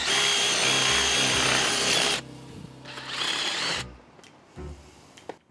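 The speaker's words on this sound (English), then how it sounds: "now I'm gonna drill a hole directly in the middle of that circle" A power drill with a Forstner bit whines loudly for about two seconds, pauses, then runs again more briefly before stopping, followed by a few faint knocks.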